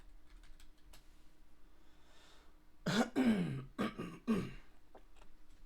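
A person clears their throat close by in a few rough, raspy bursts, with faint clicking in the quiet background.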